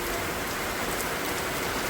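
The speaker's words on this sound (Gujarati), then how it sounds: "આવું અમારા ગામડામાં ને હવા હાલમાં આવો વરસાદ મળી જાય." Village rain falls hard and close, a dense unbroken hiss of drops striking surfaces, loud and steady with no voices.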